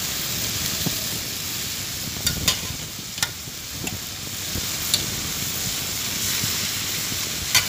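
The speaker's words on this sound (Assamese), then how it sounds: "মাংসখিনি দি ল'লোঁ আৰু ভালদৰে ভাজি থাকিম অলপ সময়।" Local chicken meat frying in a pan, a continuous close sizzle with scattered clicks and scrapes of stirring throughout, no talk.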